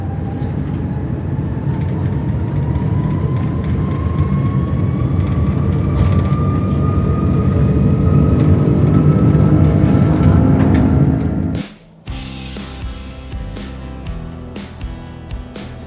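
An airliner's takeoff roll heard from inside the cabin: a loud, steady engine roar with a slowly rising whine, which drops sharply near the end, followed by quieter rumbling.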